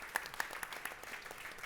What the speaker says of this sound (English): can that have a round of applause, please,